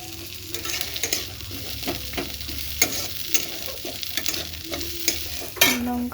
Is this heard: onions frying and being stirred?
yes